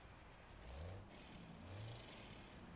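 Cummins M11 Plus truck engine rated at 580 horsepower, idling and rumbling steadily at low volume with two gentle swells in engine note, no voices.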